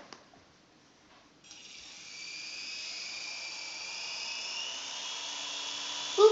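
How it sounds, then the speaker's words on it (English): An A107G gyro remote-control toy helicopter spins up after a few clicks, and its small motor and rotor settle into a steady, high-pitched whine close by. "I'm going to show you a video of my helicopter. I'm going to see if I can fly it into the H."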